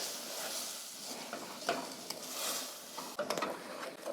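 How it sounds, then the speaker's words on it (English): Spoon stirring three cups of vanilla sugar in a pot over reduced heat, a soft continuous scraping and rustle with faint clinks, fairly quiet and without talk. "Stir that together."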